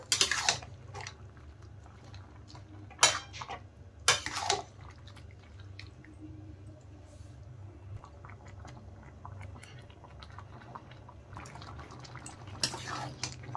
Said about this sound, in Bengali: এখন নেড়ে চেড়ে ভালো করে টমেটো আরো সেদ্ধ করে নেব